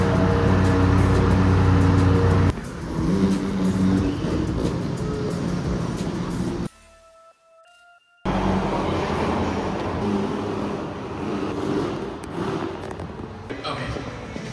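A Lamborghini Revuelto, orange with orange wheels and red calipers, is moved at a Lamborghini meet; steady rumbling engine and road noise runs throughout, broken by a brief near-silent gap, with voices mixed in.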